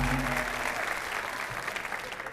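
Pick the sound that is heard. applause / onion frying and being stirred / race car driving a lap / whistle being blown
applause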